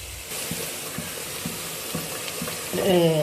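Green chillies sizzle with onion pieces in a hot pan in an Andhra kitchen, a steady close frying hiss with small pops, swelling louder near the end.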